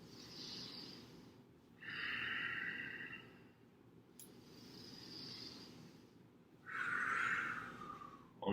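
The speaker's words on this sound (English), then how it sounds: "inhaling on the way down for this round, exhaling on the way up" Deep, slow breaths from an exercise session: soft, airy inhales and exhales repeat in a regular rhythm. They are quiet and close, with a few stronger breath swells standing out.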